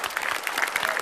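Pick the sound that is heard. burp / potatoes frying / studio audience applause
studio audience applause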